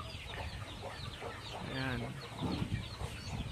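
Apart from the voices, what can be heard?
chickens clucking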